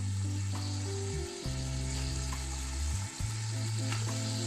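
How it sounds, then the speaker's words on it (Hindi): Potatoes and carrots fry in a pan for vegetable biryani, giving a steady close sizzle under a low droning hum that shifts pitch a couple of times. No one speaks. "इन वेजिटेबल्स को मैं तकरीबन 10 से 12 मिनट के लिए फ्राई करूंगी दम पर"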